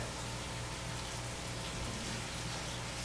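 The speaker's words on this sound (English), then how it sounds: "this is Gonna rain by your house, and you see how that rainwater sinks down to the ground" Water poured over a sand coastal model to simulate rain makes a steady, close hiss of falling drops, continuous and even throughout with no talking.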